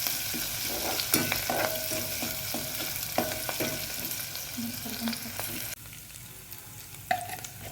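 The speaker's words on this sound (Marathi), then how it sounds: "लसणाची पेस्ट, अद्रक छान तेलामध्ये मिक्स करून घ्यायचे।" Garlic paste and ginger frying in hot oil while being stirred, a steady close sizzle broken by frequent scraping and tapping of a spoon against the pan, with no talk.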